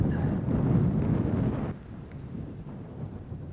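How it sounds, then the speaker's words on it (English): Strong wind gusting down a canyon on Lake Amistad in spring, a loud broadband roar battering the microphone that drops to a softer, steadier rush partway through while a fishing boat drifts along a weedy bank. "The wind is really blowing down this canyon"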